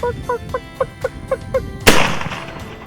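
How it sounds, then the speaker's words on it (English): A turkey gobbles repeatedly in a steady series of calls, then a single loud blast from a Benelli shotgun going off accidentally on a turkey hunt cuts through, followed by a decaying roar outdoors. "my shotgun went off"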